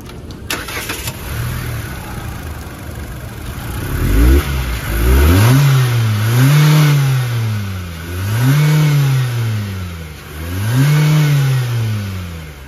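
A Chery Tiggo 5X with a naturally aspirated 1500cc four-cylinder engine starts up, then rises through three or four loud, rhythmic revs that fall back toward idle between each burst, close and with no talk.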